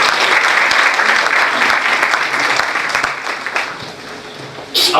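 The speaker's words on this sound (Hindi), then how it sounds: "आइए कलीसिया में इन बहनों के लिए भी जोरदार तालियों" A church congregation applauds loudly and steadily, a dense close wash of clapping that slowly fades, then a sudden brief burst near the end.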